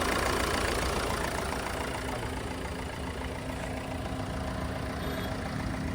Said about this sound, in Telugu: ఆల్రెడీ స్టార్టింగ్లో ఉంది బండి